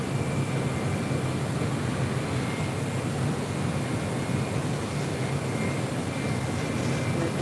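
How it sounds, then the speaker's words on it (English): A Delta Airlines Boeing 757-200 lands at LAX, its jet engines making a steady, loud broadband roar that holds evenly throughout with no voices over it. "That was Delta Airlines Flight 1966, coming in from San Salvador. That's 757-200"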